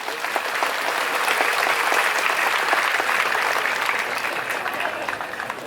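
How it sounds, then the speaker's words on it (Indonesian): A large crowd at the opening ceremony of the Bali Arts Festival 2022 applauds for an Indonesian government minister, with steady dense clapping that stays loud throughout. "Tepuk tangan untuk beliau."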